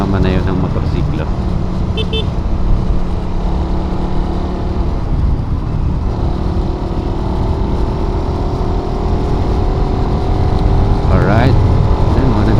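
Big bike motorcycles riding on a road, a continuous loud engine drone with shifting revs and passing traffic, a voice talking over it throughout.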